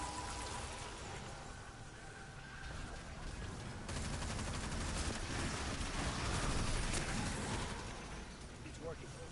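Dense, continuous gunfire from a looter-shooter video game, rapid overlapping shots that build louder toward the middle and ease off, with a voice talking over parts of the battle.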